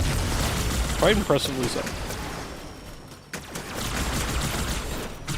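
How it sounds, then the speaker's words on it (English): Explosions from the Halo 2 video game, including large blasts from broken spawners, rumbling as heavy broadband booms under ongoing conversation between players. "spawners have a much bigger explosion than you'd imagine"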